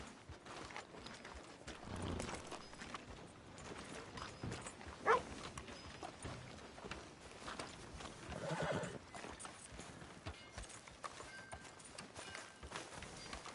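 In the Red Dead Redemption 2 game world, a horse gives a sharp whinny amid steady clip-clop of hooves, fairly quiet against ambient outdoor noise.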